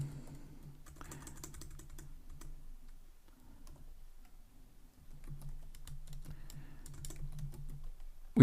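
Rapid typing on a computer keyboard while entering code, clicking in two bursts separated by a short pause, close and clear over a low steady hum.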